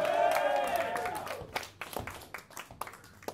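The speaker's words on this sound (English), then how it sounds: "Give them a fucking round of applause." A ringing chord dies away at a live death-metal club show in Nottingham, followed by scattered claps and crowd noise that stay fairly sparse and distant.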